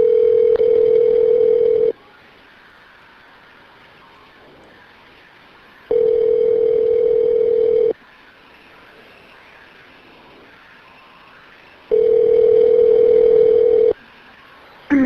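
Telephone line tones on a prepaid federal prison call: a steady single-pitch tone repeating in roughly two-second bursts separated by four-second gaps, loud and clean, with line hiss between beeps.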